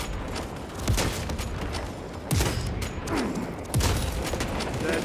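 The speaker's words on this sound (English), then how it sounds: "What's shooting at us?" Heavy automatic gunfire from a Space Marines game battle, with dense bursts and booming impacts swelling three times over a constant loud roar of combat noise.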